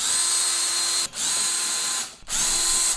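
A power drill with a drum key bit whirs steadily at close range in three sustained bursts, turning snare drum tension lugs, with brief pauses between them.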